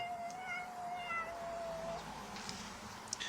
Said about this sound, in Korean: 검은고양이 왔네